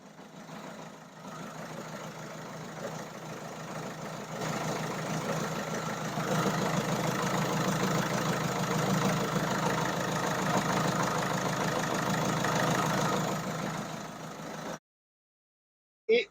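A Peugeot 206 CC HDi 110 hp diesel engine idles with a steady low rumble and faint rhythmic clatter, getting slightly louder partway through before cutting off abruptly near the end.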